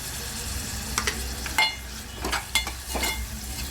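Red chili masala with tomato and asafoetida fries in a pan for a liver curry, making a continuous sizzle broken by scraping stirs and a few light utensil clinks.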